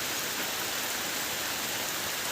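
Heavy rain from a passing storm pours over a cattle farm, a steady, even hiss with no voices or breaks.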